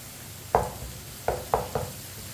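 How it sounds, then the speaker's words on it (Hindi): Crushed garlic cooking with lightly browned onion in a pan for palak saag: a faint background sizzle is broken by four sharp spatula knocks against the pan, one alone and then three in quick succession. "1 मिनट के लिए लहसुन को भी पका लेंगे।"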